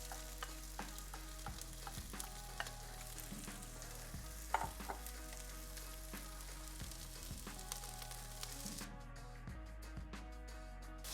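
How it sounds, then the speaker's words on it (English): Garlic and onions sizzle steadily in a pan for turkey chili, a constant close crackle with occasional stirring clinks and scrapes throughout, no voices. "You're gonna hear everything start to sizzle."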